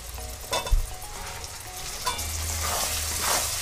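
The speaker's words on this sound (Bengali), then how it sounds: "মশলাটা হালকা কষে নিয়ে এর মধ্যে কুচো করে রাখা টমেটো দিয়ে দেবো" Chopped tomato going into a pan of frying spice masala: a close, steady sizzle and crackle with occasional stirring scrapes and small bumps throughout.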